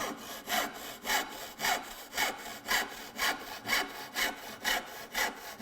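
A woodworking handsaw rip-cuts wood in steady back-and-forth strokes, about a dozen rhythmic rasping pushes, close and clear with no talk.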